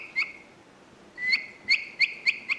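Hand-cut bamboo bird call whistle imitating birdsong: a short clear chirp, a pause, then a quick series of five bright rising whistled notes, close and distinct over faint background noise.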